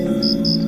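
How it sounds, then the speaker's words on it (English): Crickets chirp on a summer evening: two short, bright, high-pitched trills sound clearly over a steady low background hum, with no voices. "Crickets clearly have a lot to say. That familiar, persistent chirp is an advertisement"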